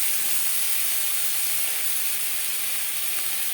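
Potatoes and spices fry in a pan for a fish curry with eggplant, a steady bright sizzle and hiss that stays loud and even throughout, with no talk.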